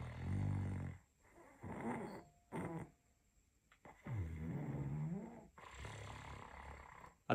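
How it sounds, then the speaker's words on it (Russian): A person snores with the hyoid clamped, producing loud, rough, rattling breaths in a repeating rhythm, several drawn-out snores separated by short quiet pauses, close up. "зажатие подъязычной кости вызывает храп"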